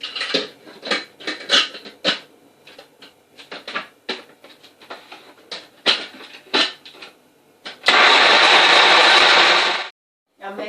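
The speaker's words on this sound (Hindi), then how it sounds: "अब इसको मैं ब्लेंड करूंगी।" A blender whirs at full power for about two seconds, blending dates and milk into a milkshake; scattered clinks and handling noises come before it.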